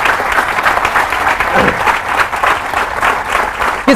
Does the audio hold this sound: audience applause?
yes